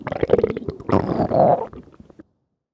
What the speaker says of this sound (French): Puis, son ventre émit 3 gargouillis.